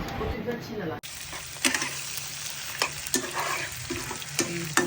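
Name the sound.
marinated shrimp frying in a pan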